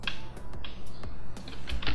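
Fingers tap out a short line on a computer keyboard, a quick irregular run of crisp, close key clicks with brief pauses between them.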